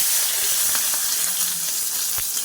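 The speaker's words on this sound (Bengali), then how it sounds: "প্রথমে পেঁয়াজ দিয়ে দিলাম। পেঁয়াজটা একটু লাল করে ভেজে নেব" Sliced onion frying in hot oil in a pan for an egg bhuna, giving a steady, dense sizzle and hiss with faint crackles throughout.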